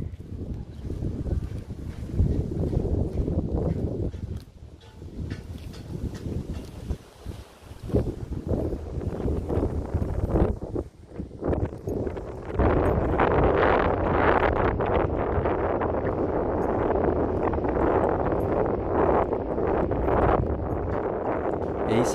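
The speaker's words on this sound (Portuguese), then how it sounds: "Está ventando bastante por aqui." Strong wind buffets the microphone high on a huge bridge at Paulo Afonso, Bahia, a loud, continuous roar that surges and dips and then holds steady and heavy with no voice heard.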